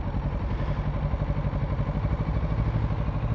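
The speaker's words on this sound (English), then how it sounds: "You adjust your idle here if you wanted to raise the idle up." Kawasaki Ninja 650 parallel-twin engine idling close up, a steady low rumble with dense even pulses and no talk over it, held at a constant level throughout.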